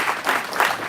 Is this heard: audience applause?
yes